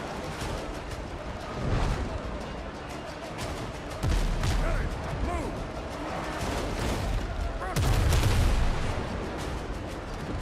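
Cannon fire in the pirate ship-battle game Windrose thunders in repeated heavy booms and crackling bursts, with big blasts near the start, middle and end, while a voice talks over the gunfire.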